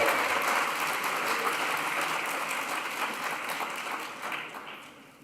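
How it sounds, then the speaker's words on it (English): A graduation crowd applauding and cheering for the class of 2025, a dense, steady wash of clapping from a large hall audience that slowly fades over about five seconds. "graduates and guests alike, after 3, a big cheer for the class of 2025"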